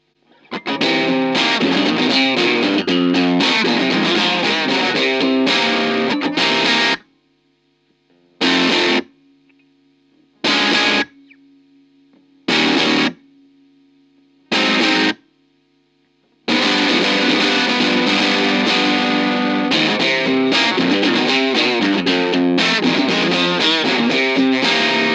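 A Strat with its volume rolled down to about 8 runs through a RYRA fuzz for a clean, breaking-up tone. Sustained loud riffing is broken midway by four short stabs with gaps between them, and then the full riff returns.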